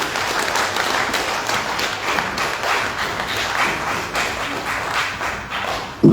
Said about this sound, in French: À présent, mesdames et messieurs, applaudissez.